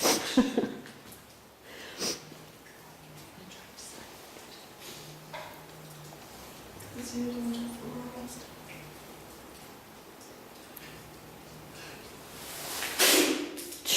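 A single short sneeze bursts out near the end, preceded by quiet room noise, faint movement and a few scattered soft sounds.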